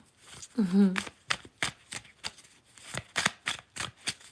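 A deck of cards is riffled in several quick crisp bursts, close up, after a brief spoken word near the start.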